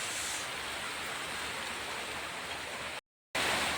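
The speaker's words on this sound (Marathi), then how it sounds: "पाऊस येतोय तर बघा." Steady rain falling, a dense even hiss heard close and alone at moderate level, briefly cutting out near the end before resuming.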